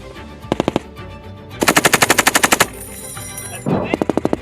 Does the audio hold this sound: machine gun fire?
yes